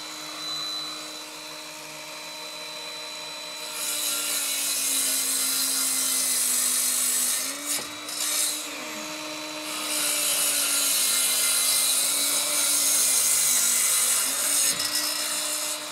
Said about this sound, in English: cut up this final 2x4 to be the horizontal supports between these uprights. So I'm busting out the heavy-duty machinery,